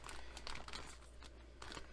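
A damp cleaning sponge for rubber stamps is squeezed and wrung out by hand, giving several soft, close, crinkly squelching bursts in an uneven rhythm.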